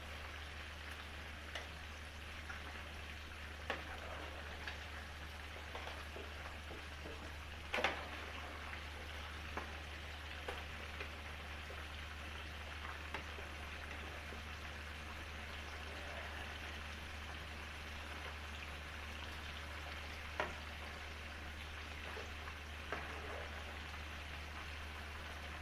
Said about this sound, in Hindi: अभी 2 मिनट हम दूसरी साइड पकाएंगे इसको।